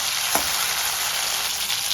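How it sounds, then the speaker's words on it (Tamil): Onions and small shallots sauté in oil for a Tamil tamarind curry, giving a loud, steady, broadband sizzle with one brief crackle near the start and no talking. "வெங்காயம், சின்ன வெங்காயம் நல்லா வதங்கிடுச்சு."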